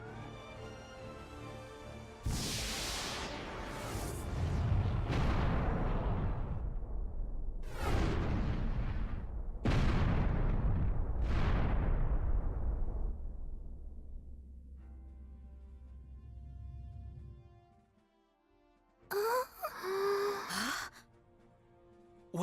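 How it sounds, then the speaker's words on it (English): Incoming fire from an unknown enemy vessel in the Star Ocean video game brings a string of heavy booming explosions, five or six in succession with long rumbling tails, under a sustained musical drone, followed by a short burst of effects. "Incoming fire from the unknown vessel."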